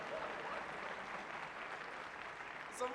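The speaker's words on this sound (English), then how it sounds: "A round of applause for them." At a navy gala concert, an audience applauds musicians with soft, distant, continuous clapping for a few seconds.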